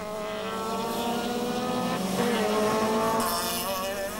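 Procar touring race cars, 1994 Belgian Procar finale at Zolder circuit, roar past in a continuous loud engine drone with rising and falling pitch, one car swelling louder as it passes close.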